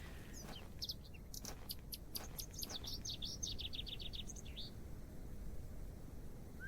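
Rapid bright whistled notes, a rising and falling melodic run from a character in a point-and-click adventure game set around a barrow excavation, heard clearly over a low steady background rumble.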